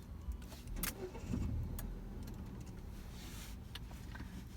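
A car engine cranks and catches on a driving test course in Keçiören Ovacık, then settles into a low, steady idle heard from inside the car, with a few small clicks.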